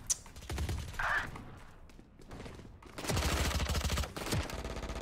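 Gunfire from a weapon in the video game Valorant, heard as rapid bursts of shots in two or three clusters with short gaps between, fairly loud and close, with no talk over them.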